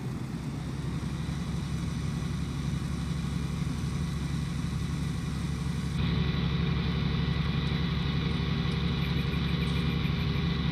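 A tractor engine in the video game Farming Simulator 19 drones steadily throughout, a constant low mechanical hum with a slight shift in tone partway through, no talking.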